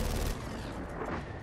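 Gunfire in the video game Gears of War 4, a dense burst of shots and booms that fills the whole moment at steady, loud level, with no talk over it.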